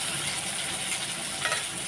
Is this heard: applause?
no